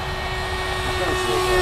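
A Hobbyking T-50 RoKAF radio-controlled jet with a 70mm electric ducted fan whines steadily during a show flight, a sustained tonal hum that grows slightly louder, with a voice faintly present.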